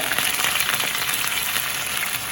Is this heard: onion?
yes